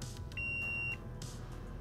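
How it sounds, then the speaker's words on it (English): A multimeter gives one steady, clean electronic continuity beep lasting about half a second while its probes touch the leads of a drone ESC, heard alone at low level. "So if we test the leads, they should beep. That means we have continuity."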